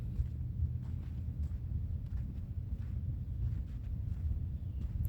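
Wind gusts across an open cemetery in winter, a steady low rumbling buffet against the microphone with faint rustling on top, moderately quiet and without speech.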